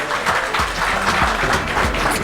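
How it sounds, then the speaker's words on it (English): An audience claps by hand at an awards ceremony, a dense, loud and continuous burst of applause in an indoor hall. "Big hand clap."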